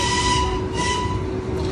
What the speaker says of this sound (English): Did you guys hear that? That's the train